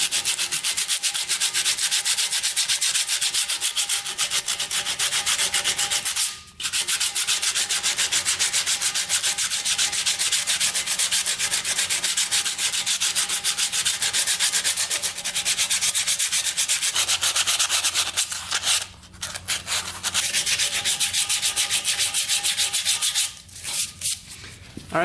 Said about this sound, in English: Let's see if it'll sand down a little bit. Here's a little better sandpaper.